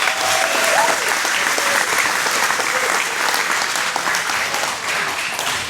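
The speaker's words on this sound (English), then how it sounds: "Let's give them a round of applause." Steady applause from a wedding crowd for the band, dense and continuous clapping filling the whole stretch without letting up.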